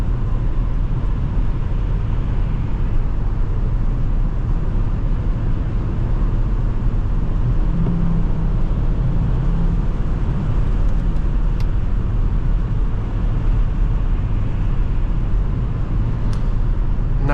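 Continuous steady road rumble and engine hum of a 2005 Volvo XC70 2.5T AWD station wagon driving, heard from inside, unchanging and fairly loud throughout, with no talking.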